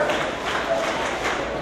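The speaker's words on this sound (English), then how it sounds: "But now this crowd getting behind him." A wrestling crowd at a Reality of Wrestling show cheers and rallies behind a wrestler, a dense, steady roar of voices and scattered claps filling the whole moment without pause.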